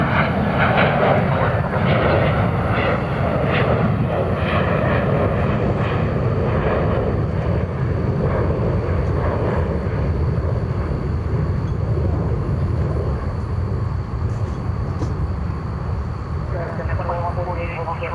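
An American Airlines jet rolls down the runway for takeoff at DFW Airport, a loud, steady roar of engine thrust and rumble lasting the whole stretch, while a tower radio voice talks over it.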